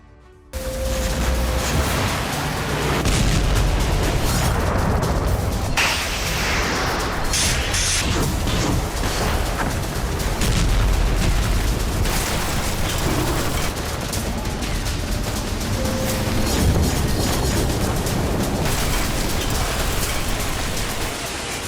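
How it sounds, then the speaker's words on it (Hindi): Repeated blasts and rattling gunfire from Ukrainian attacks on Russian soil form a dense, continuous barrage, loud and sustained throughout with sharp bursts layered over a roaring wash. "सुपर पावर रूस की धरती यूक्रेन के बारूदी विस्फोट से दहल उठी।"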